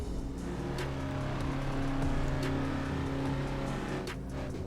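A Reliant Robin's engine drones steadily as it is driven around the Nürburgring Nordschleife in a racing video game, a continuous close buzzing hum with faint tonal shifts and no talk.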